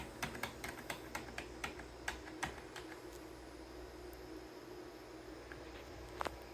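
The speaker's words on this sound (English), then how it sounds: "I will power on the machine and spam the F9 and F10 function keys" Function keys on an HP ProDesk G6 Mini desktop computer keyboard pressed rapidly and repeatedly during boot, a quick run of sharp clicks in the first few seconds, then sparser taps over a low steady hum.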